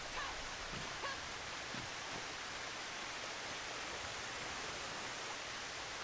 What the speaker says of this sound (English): Lots of waterfalls here.